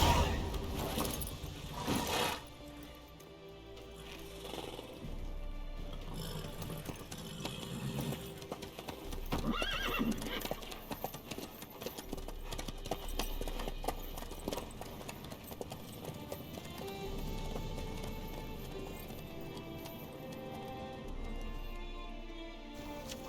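Steady clip-clop of a horse's hooves in The Witcher 3: Wild Hunt (2015), a continuous rhythmic trot layered under busy in-game ambience and music, with no clear neighing.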